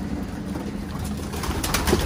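Racing pigeons cooing in a loft, a steady low murmur of overlapping coos close by with faint background noise and no talking.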